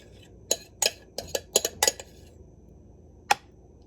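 Metal utensil scraping and clinking against a dish while emptying food for a meal prep bake, several sharp knocks in a quick cluster, then a pause and one last clink, close and fairly quiet with no talking.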